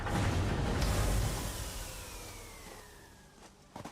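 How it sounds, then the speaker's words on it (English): Power failure in the game Satisfactory: a loud, broad rush of noise fades steadily downward in level, ending in a quiet hum with a couple of faint clicks. "And that is the sound of losing power."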